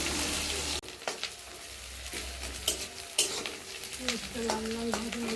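Onions and dried red chillies sizzle steadily in hot oil in a pan, with soft clinks and scrapes of a spoon stirring through, close and continuous with no talk.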